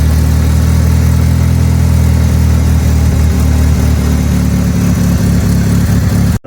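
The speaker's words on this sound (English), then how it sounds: "This is the first time the car started in probably like 2 years." A 1999 Mitsubishi Eclipse engine idling roughly on its first start in two years, a loud, close, continuous low rumble that carries on steadily before cutting off abruptly at the end.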